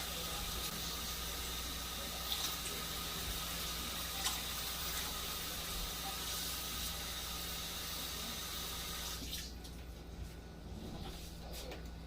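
Steady rushing of four cups of water pouring into a cooking pot, continuous and close, ending abruptly near the end with quieter clinks after.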